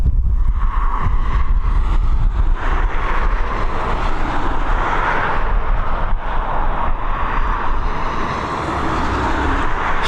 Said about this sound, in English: Next up, we've got this A321neo heading over to New York, EI101, your flight number.